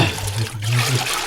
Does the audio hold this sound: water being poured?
yes